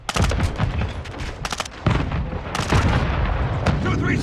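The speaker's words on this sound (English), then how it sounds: "They're launching grenades!" Rapid gunfire and grenade launches crack and boom in Modern Warfare 2 on veteran difficulty: dense, loud bursts of shots and heavy thuds in an uneven rhythm over constant battle noise.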